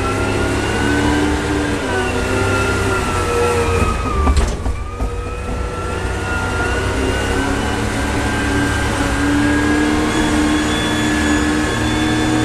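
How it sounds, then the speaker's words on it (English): A steady, loud engine drone from a front end loader driving over a bridge rumbles continuously nearby, with a low hum and a brief clunk partway through. "I'm driving this front end loader over this bridge"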